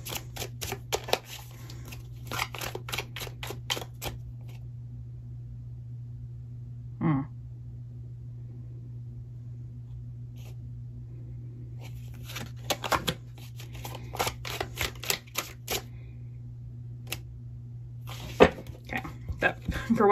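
Tarot cards are shuffled by hand in bursts of quick riffling and flicking, close and fairly quiet. A steady low hum runs underneath, with long pauses between the bursts.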